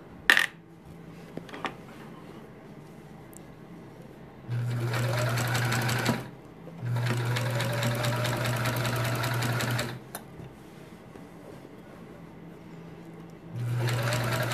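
Home sewing machine stitching binding onto a quilt, running in three sustained bursts of steady whirring with clicks and pauses between, close and fairly loud.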